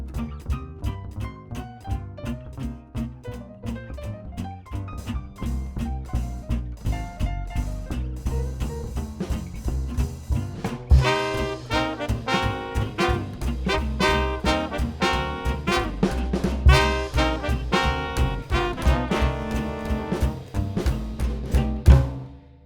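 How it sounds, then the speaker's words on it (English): A swing drummer plays with a jazz band, keeping time on hi-hat under piano, then moving to the ride cymbal with punchy crash accents as the full ensemble enters for a loud shout chorus. "I will be going from the hi-hat during the piano solo to the ride cymbal and the crashes for the shout chorus."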